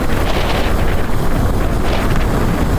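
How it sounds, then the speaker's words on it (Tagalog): Strong wind roars steadily and loudly into the microphone of a rider on a motorcycle heading from Cubao to Balintawak, a constant broadband rush filling the whole stretch with no talk. "Malakas yung hangin dito."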